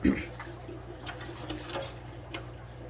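Water trickling and flowing through a Seachem Tidal hang-on aquarium filter, a soft, steady burble with faint ticks, close and quiet with no talk.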